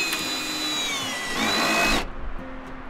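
A power drill drives a lag bolt into a crawl space cover, a steady whining motor buzz that rises and strains for about two seconds before cutting off abruptly, close and loud with no talking.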